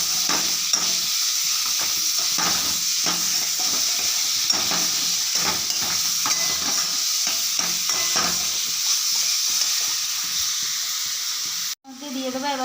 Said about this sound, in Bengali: দিয়ে এবারে জলপাইটা নাড়াবো